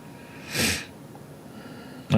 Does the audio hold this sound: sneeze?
yes